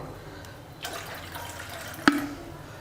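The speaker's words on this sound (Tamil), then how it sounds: "இதில் 3 கிளாஸ் இல்லை 2 கிளாஸ் வந்து தண்ணி ஊற்றிக்கலாம்" A rush of water pours into a pan for making rava kesari, starting abruptly and continuing as a steady splashing flow, with a sharp clink partway through.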